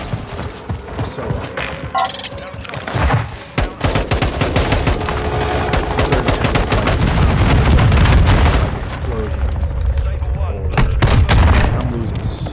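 Warzone gameplay fills the stretch with dense, loud gunfire bursts and booming explosions, rapid automatic fire and heavy blasts building in intensity, while someone talks over the action.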